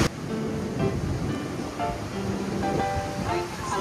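Ocean surf breaks on a beach at Itoshima, Fukuoka, a continuous wash and roar of waves mixed with wind buffeting, with voices talking faintly over it.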